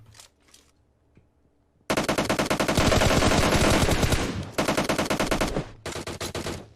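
Sharp close gunfire in PUBG Mobile: after a quiet start with a couple of faint taps, a loud rapid automatic burst erupts and carries on, then breaks into several shorter bursts.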